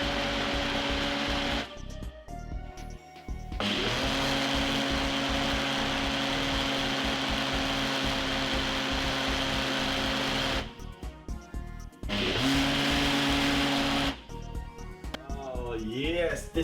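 A Ninja blender whirs through a beet vegetable drink in long steady runs, loud and close with a constant motor drone, briefly stopping twice in between.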